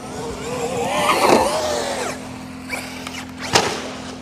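Traxxas RC truck motor revving hard for a jump, a rising high-pitched electric whine that climbs, peaks and trails off, followed by a few sharp clatters and knocks nearby.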